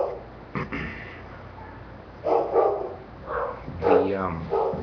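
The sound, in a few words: dogs barking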